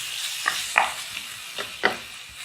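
Masala being stirred and fried in a karahi for chicken chana, with a steady sizzle and several distinct scraping stirs close by, and no talking.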